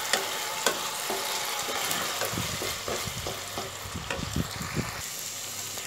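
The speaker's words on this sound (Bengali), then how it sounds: "মিনিট 2 পেঁয়াজকলিটাকে মশলার মধ্যে কষিয়ে নিচ্ছি" Spring onion stalks fry in spice paste in a pan, a continuous close sizzle broken by repeated stirring scrapes and knocks of the spoon against the pan.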